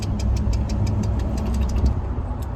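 A car's engine and road noise rolling along steadily, loud and close, with a rapid repeating tick that could be a nail in the tire, and no voices.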